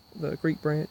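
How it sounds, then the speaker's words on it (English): Frogs call from a creek at night, three short pulsed croaks in quick succession over a steady high insect hum, close and moderately loud. "I also hear some frogs in the creek"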